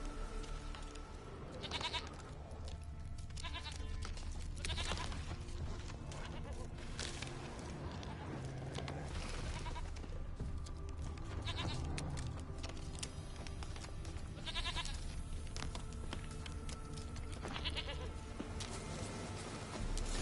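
A goat in The Witcher 3 bleats several times, its calls rising out of a dense game soundscape of ambient music and effects that stays loud and steady.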